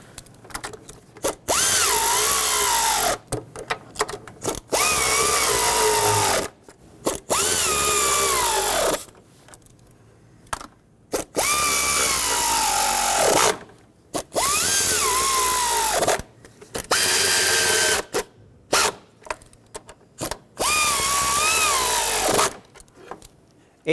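A power driver tightens bolts on the lower intake of a Dodge Grand Caravan's 3.6L engine, running in about seven loud, close bursts. The whine bogs down near the end of each burst, with short pauses between.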